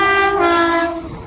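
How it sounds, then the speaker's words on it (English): TransPennine Express train passing through Wigan North Western station, diverted on a Manchester Airport to Edinburgh service, sounding a loud, sustained two-tone horn close by over the rumble of the train. "here comes the passing Transpennie Express service on divert from Manchester Airport to Edinburgh"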